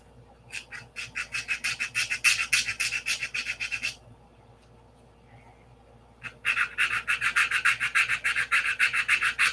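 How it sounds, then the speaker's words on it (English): Rapid back-and-forth sanding strokes on a P-47 model airplane wing, close and fairly loud, in two bursts of steady rhythmic rasping separated by a few seconds of quiet. "Sand it a little more."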